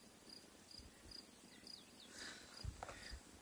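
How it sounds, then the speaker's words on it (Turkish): Insects chirp in an infested field, short repeated high trills at intervals over a faint outdoor background, with a couple of soft thumps near the end. "Burada çekirge istilası var."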